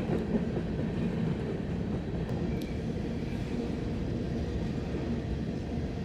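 Southbound freight train rolling past at Nortonville, Kentucky, a steady rumble of wheels and cars holding at moderate distance, with faint clicks and squeals over the drone.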